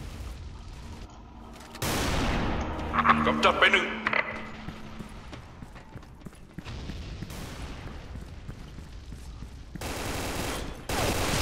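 Gunfire and explosions from the online shooter Special Force 2 crackle in bursts of varying loudness across the scene, while someone talks over the action.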